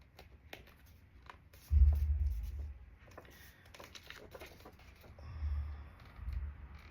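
Scissors cut through folded paper for a woven bookmark, making close, soft crinkling snips and rustles in two short bursts, with handling noise in between.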